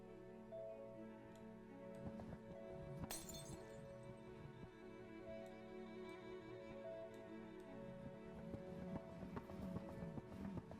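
Glass shatters in the video game Hindsight, a single brief, faint crash amid quiet ticking and soft clinking, all at low volume.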